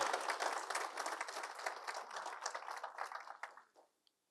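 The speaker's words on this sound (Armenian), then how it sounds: "Մի հատ ծափարենք եղբայրներին, էլի։" An audience claps for the brothers at an Armenian church gathering, a dense, steady burst of applause that carries on for about four seconds before thinning out and stopping.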